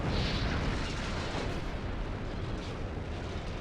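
Warship ammunition detonation in the Ultimate Admiral: Dreadnoughts game, a loud sustained rumbling blast of dense noise that rolls on without a break, no voices.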